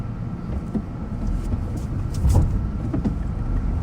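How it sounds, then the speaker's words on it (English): Road traffic on a Japanese street, with many cars idling and creeping while they wait for a signal to change, heard from a car as a steady low engine rumble with passing swells and no talk. "there are many cars waiting for the signal to change on the road in front of me"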